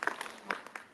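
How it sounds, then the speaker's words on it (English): Scattered hand claps from a fan panel audience at a pop culture expo, a few quiet, uneven claps with a brief murmur of voices, faint and short. "Give me a hand clap, everybody."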